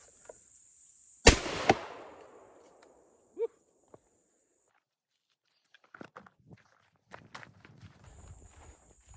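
One loud buckshot blast from a Beretta 1301 shotgun outdoors, sharp crack with a ringing decay, followed by a few scattered thumps, clicks and handling noises.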